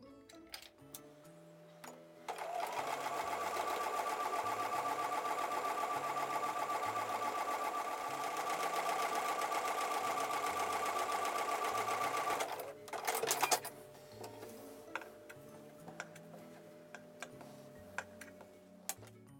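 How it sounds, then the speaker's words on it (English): A sewing machine runs a quarter-inch seam along the long edge of quilt fabric, a steady whirring hum for about ten seconds, then a brief clatter and quieter handling clicks. "I'm going to take those over to the sewing machine and sew a 1/4 inch seam along the long"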